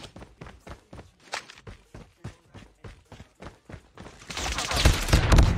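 Gunfire erupts in a Call of Duty Mobile gunfight, a loud, continuous burst of shots over the last two seconds, after steady, regular footsteps thud along at a run.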